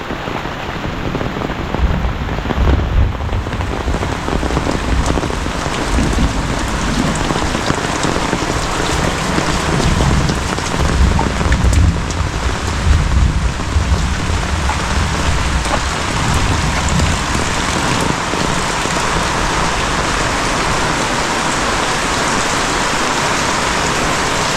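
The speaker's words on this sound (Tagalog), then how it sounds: "Lumalakas na ang ulan." Heavy rain pours down steadily and loudly, a dense close hiss that swells stronger over time, with low rumbles of thunder rolling underneath.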